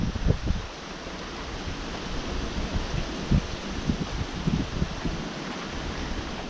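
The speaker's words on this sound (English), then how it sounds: "Here comes a strong gust." A strong gust in a severe wind storm roars as a broad, steady rush with buffeting thumps against the microphone, loud throughout and with no voice over it.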